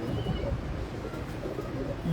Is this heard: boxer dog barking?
no